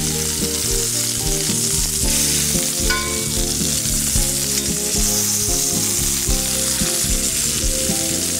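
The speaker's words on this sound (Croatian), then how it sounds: "Nakon 4-5 minuta kotlete okrećemo na drugu stranu i pržimo dalje." Pork cutlets frying in a pan give a continuous sizzle, but low rhythmic tones dominate, suggesting music playing over the frying.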